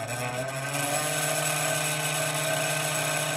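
A pure oxyhydrogen torch flame on a 0.035 welding tip, used with a sapphire refractory spray coating machine, makes a steady, even, hissing roar that holds unchanged throughout with no voices.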